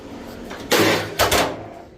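An aluminium car door from an old Robin Reliant is handled onto scales, giving two dull clanking thumps with metallic rattle, close and fairly loud.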